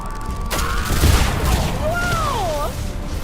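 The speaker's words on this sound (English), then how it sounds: "It was like an electric shockwave" A shotgun in the video game Mass Effect 3 fires an electric shockwave, a loud crackling burst followed by sweeping, warbling electronic tones that rise and fall over a steady, noisy combat din.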